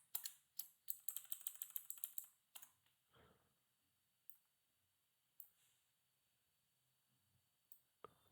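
Quick bursts of typing on a computer keyboard, a rapid run of crisp clicks followed by scattered single keystrokes and pauses, close and quiet with no voices.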